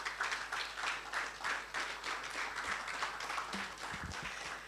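An audience at a talk on building AI agents gives the convener a steady round of applause, a soft, fairly distant wash of clapping that holds evenly throughout.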